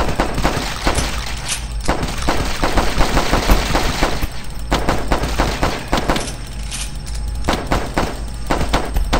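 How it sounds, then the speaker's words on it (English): Rapid automatic gunfire rattles in an online video game, in dense overlapping bursts with short pauses between volleys. The shots are loud and close, with thuds mixed in. "Shoot him in the face, shoot him in the face, shoot him in the face!"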